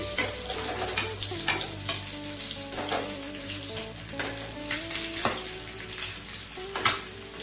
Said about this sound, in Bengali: তাহলে এভাবে ফ্রাই করে তুলে নিচ্ছি কাবাবগুলো